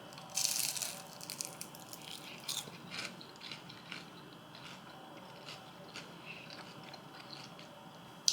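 Someone bites into crunchy deep-fried fish cakes, producing a crisp crunch near the start followed by several fainter crunching and chewing sounds close to the microphone.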